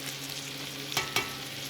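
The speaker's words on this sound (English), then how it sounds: "Give that a bit of a stir. And all the natural sugars in the honey will start to caramelise in the pan." Honey is stirred into pork belly sizzling in a pan, a steady frying hiss with two short scraping strokes of the stir close by.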